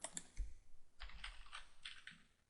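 Someone enters a password on a computer keyboard, soft clattering keystrokes in a couple of quick runs, faint and close with no voices.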